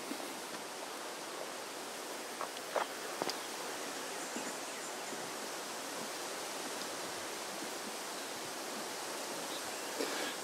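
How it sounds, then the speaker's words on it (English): Creek water flowing beneath a bridge makes a steady, broadband rushing wash that stays even throughout, with a few faint clicks on top and no voices. "We're looking over the ledge of the bridge into the creek down that way."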